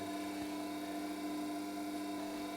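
A Record Power WG250B sharpener runs with a steady, even whine and hum while the burr is removed from the inside edge of a carving gouge, a continuous tonal drone at constant loudness with no talking.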